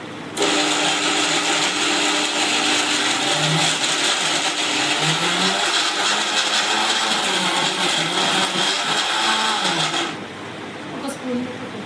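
Loud, continuous whirring grind of a mixer grinder grinding lentils for about ten seconds, then cutting off, leaving quieter background noise and faint voices.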